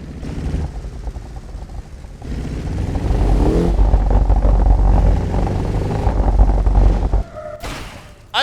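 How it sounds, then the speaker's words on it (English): A car in BeamNG Drive rolls over cobblestones through a small Italian village, giving a steady, loud rumbling drive with a rattly, bumpy texture that swells midway and then cuts off near the end. "listen to that sound effect when you drive over the cobblestone"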